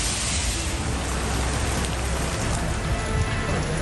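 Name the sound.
rain from Cyclone Tauktae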